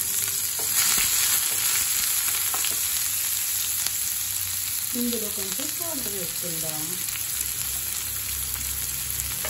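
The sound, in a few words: onion frying until golden in a pan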